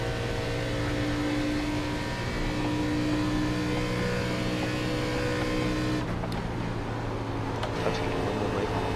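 An ARCA race car in iRacing laps Indianapolis, its engine holding a loud, steady high-revving drone with a brief dip near the end, heard alone.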